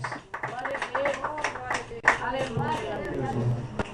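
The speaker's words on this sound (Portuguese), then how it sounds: "E as palmas glorificam o Senhor." Rhythmic hand clapping by a church congregation at a worship service, heard steadily beneath someone speaking and praising throughout.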